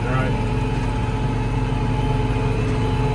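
A Case IH 9170 tractor engine runs at a steady, loud idle with a low rumbling drone that stays constant throughout.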